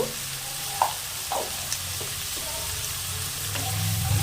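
Leftover rice pulao with salt and a little turmeric fries in a pan, a steady close sizzle broken by a few scraping stirs, with no voices.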